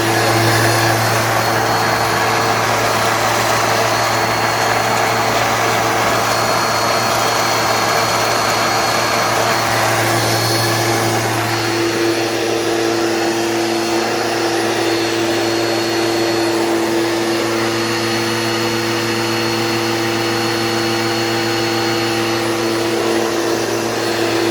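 A Bissell PowerForce bagless 6584 vacuum cleaner runs with a loud, continuous motor drone and a harsh, rattling brush roll, holding steady and close throughout with a slight shift in tone partway through.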